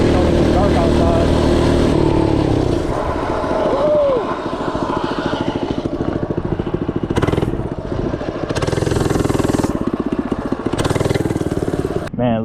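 An FRP GMB-100 minibike engine revs and rattles while riding over dirt at night, loud and rough with choppy throttle changes, and a person talks over it briefly.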